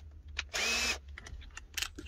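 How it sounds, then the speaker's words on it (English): An aging Milwaukee drill fitted with a step bit whirs in a short half-second burst to enlarge a hole in a van, between faint clicks and handling noises. "Obviously, you need a drill on the end, but just going to use that to open this hole up a little bit."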